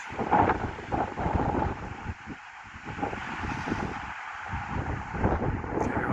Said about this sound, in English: Here comes the wind gust of wind.